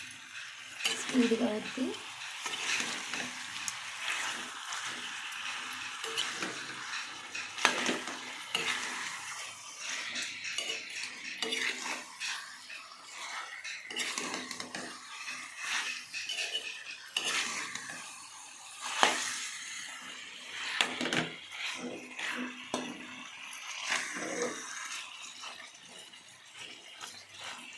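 Food fries in a little oil and is stirred in a pan, with fluctuating sizzling, utensil scrapes and clinks, and someone talking intermittently over it.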